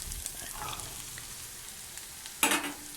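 Sliced onion and bitter gourd frying in a pan, a faint steady sizzle followed by one sudden louder crackling burst near the end.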